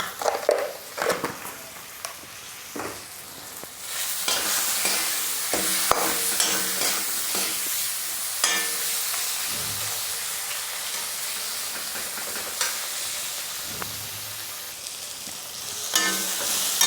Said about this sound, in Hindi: तो देखिए टमाटर भुन रहे हैं